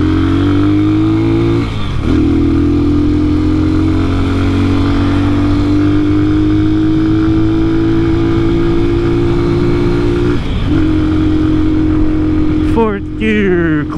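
A motorcycle engine labors up a hill in gear, a loud, sustained drone held at a steady pitch with brief dips around gear changes, heard close from the rider's position with wind noise.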